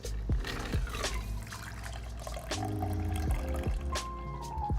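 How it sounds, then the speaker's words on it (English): Carbonated cold-brew pomegranate and rosehip tea poured over dense cubed ice in a bar setting, heard as close liquid splashing and filling with clinks of ice, a steady pouring flow. "We're going to top this off with some cold brew pomegranate and rosehip tea"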